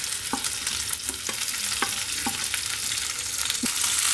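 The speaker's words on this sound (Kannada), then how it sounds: "ಲೈಟಾಗಿ ಫ್ರೈ ಮಾಡ್ಕೊಳ್ಳಿ" Chopped onion and red capsicum frying in a pan for paneer tikka, a steady close sizzle with a few short scraping stirs of a spatula scattered through.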